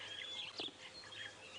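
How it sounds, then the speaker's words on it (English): A red-chested cuckoo calls from a treetop during a sunrise safari drive, its whistled notes faint and distant over a steady outdoor hum, with no voices present. "Red-chested cuckoo, everyone,"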